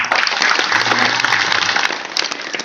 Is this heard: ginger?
no